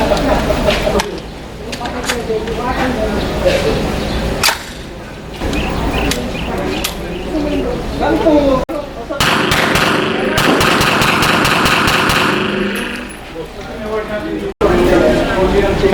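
Shots from a 9mm pistol caliber carbine semi-automatic rifle on a shooting range, sharp loud reports in an uneven series with a rapid burst near the middle, mixed with people talking throughout.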